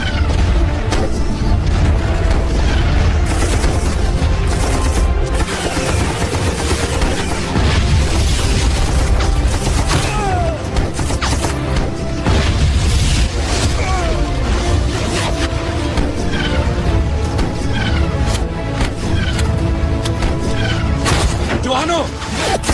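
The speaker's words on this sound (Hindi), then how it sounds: "इस तरफ से हैवी फायर हो रहा है सर। ठीक है, इस तरफ फायर जारी रखो।" Heavy gunfire and explosions in a film battle scene: dense, continuous rattling bursts, booms and crashes fill the whole stretch at loud, close range, with shouted voices mixed into the din.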